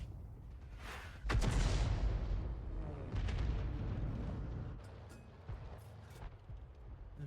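A 105 leFH18B2 artillery gun fires in a tank video game with a loud, close boom that rolls off slowly. A second heavy blast follows a couple of seconds later and trails away into a long rumble.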